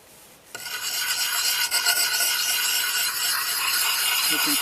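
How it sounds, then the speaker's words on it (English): A Collins axe blade is drawn across the fine side of a sharpening stone, a steady close rasping scrape that starts abruptly after a brief quiet moment and continues without pause, with no voices. "So now we'll use the fine side of the stone to finish it."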